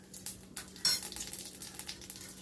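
Whole cumin and garam masala spices fry in hot oil in a pan, a soft, quiet crackling sizzle broken by light stirring scrapes and clinks.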